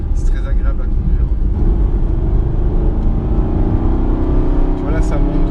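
An Aston Martin Vantage V8 engine climbs slowly, then revs harder in a steady rising drone, close and loud throughout, with someone talking over it.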